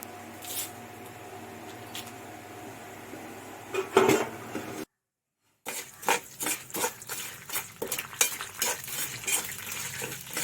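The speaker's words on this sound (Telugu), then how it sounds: "దాన్ని మనం పక్కకు తీసేసుకుని ఇప్పుడు పోపుని వేయించుకోవాలి" Tempering spices (popu) fry in a pan with crackling sizzle and scraping stirs, spoon clinks on the pan, a short silent break midway, then louder busy spluttering with repeated stirring strokes.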